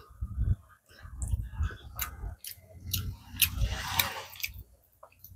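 Close, wet chewing of rice with pumpkin leaf curry cooked in mustard and poppy seed paste, irregular mouthfuls with soft squishes and smacks, alone without talk.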